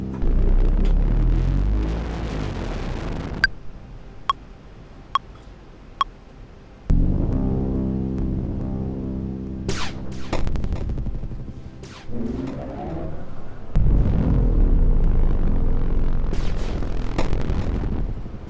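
A deep, dark synthesized drone rumbling continuously, with sparse clicks and shifting layered tones swelling and fading.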